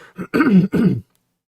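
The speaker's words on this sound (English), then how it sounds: "Hang on, clear my throat." A man clears his throat close up in a few short, gravelly bursts, then falls silent.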